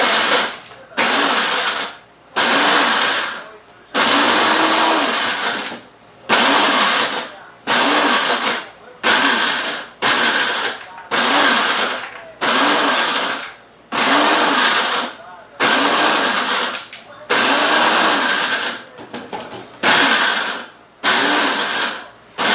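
A blender whirs loudly in repeated short bursts, starting and stopping over and over with brief pauses between pulses.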